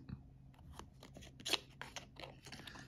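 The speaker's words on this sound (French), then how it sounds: "le temps d'ouvrir les deux boîtes" Two presentation boxes being opened, with a run of soft crisp snips, rustles and clicks of cardboard and packaging close by, quiet and without speech.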